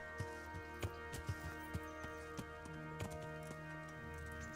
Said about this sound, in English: There's Capon's horse. A pretty good horse.